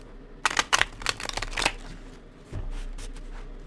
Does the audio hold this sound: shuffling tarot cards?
yes